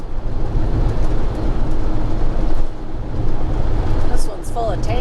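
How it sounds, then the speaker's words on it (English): A steady, heavy rumble of a passing freight train of tanker cars near Fort Peck, Montana, with continuous rolling noise and a faint squeal near the end. "There's a train a-coming."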